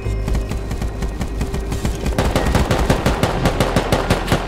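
Automatic gunfire in the survival game Rust crackles in rapid, loud, continuous bursts, with dense overlapping shots picking up pace and intensity in the second half.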